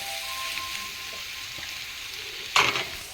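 Capsicum curry cooked with coconut milk stirred in a pan, a steady soft simmering sizzle close by with a brief louder scrape of the spoon near the end, no talk.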